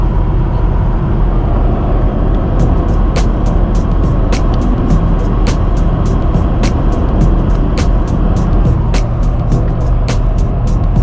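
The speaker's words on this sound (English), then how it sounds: "The truck is running great." Loud, steady road roar from inside a Power Stroke diesel truck cruising at 65 mph while hauling a dozer, a constant engine and tire drone with regular ticking clicks over it.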